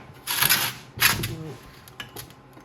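Work on a seized 1965 Toro Flymo engine while pulling its cylinder off: a few short, close bursts of ratcheting, clicking metal clatter separated by brief pauses.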